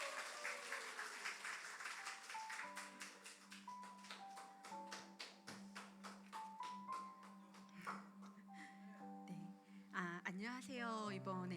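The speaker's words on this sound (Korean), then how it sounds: "우리 함께 박수로 맞이해 주시면 감사하겠습니다" A church congregation at a Sunday service claps in a fairly steady rhythm to welcome a speaker to the front, over a sustained musical tone, before a voice begins near the end.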